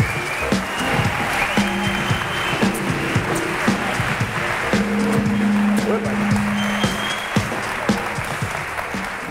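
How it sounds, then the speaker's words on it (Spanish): Studio audience applause on a Spanish political comedy show, welcoming guest Raquel Ejerique, steady clapping with cheers and some voices mixed in throughout. "un aplauso para Raquel Ejerique"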